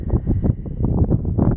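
Strong wind gusts buffet the microphone on the Nullarbor Plain in Australia during a long walk, a loud, rough, continuous rumble that surges and falls in uneven pulses with no voices.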